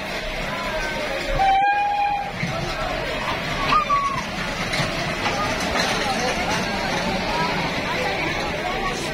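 A safari ride train at a dinosaur theme park rumbles nearby with a brief horn-like tone, under a constant wash of crowd noise and chatter.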